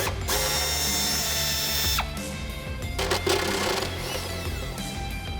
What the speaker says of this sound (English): They're gonna be using a 13mm socket to remove this.